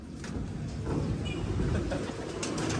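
A pigeon coos softly and repeatedly inside a loft, gentle throaty calls over a low steady background hum.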